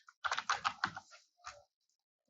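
A product name is typed on a computer keyboard: a quick burst of close, crisp key clicks in an uneven rhythm, a couple of slower taps, a pause, then one final keystroke, with no talking.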